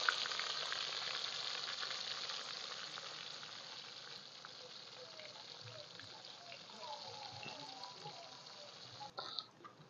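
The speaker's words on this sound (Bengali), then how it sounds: "মাছগুলো ভেজে নিচ্ছি, তেলটা গরম হয়ে গেছে।" Pieces of fish fry in hot oil with a steady, dense sizzle that holds for the whole stretch and eases slightly toward the end, broken near the close by a brief clatter.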